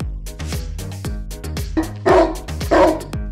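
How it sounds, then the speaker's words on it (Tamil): A dog barks repeatedly at close range, a rapid series of sharp barks and yips in quick succession, with a couple of louder, harsher barks toward the end. "அப்படியே நாய் குலைக்குது"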